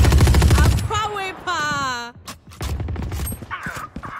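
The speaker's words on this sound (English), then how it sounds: "I shot her in the face with an Ares." A burst of Ares machine gun fire in the Valorant video game hits loud at the start, followed by game effects and voices talking over the action.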